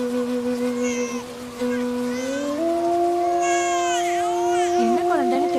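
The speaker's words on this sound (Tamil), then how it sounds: "குழந்தை அழுகுற சத்தம் கேக்குது." An infant cries in drawn-out wails, close and loud, over a sustained tonal background, with no one speaking over it.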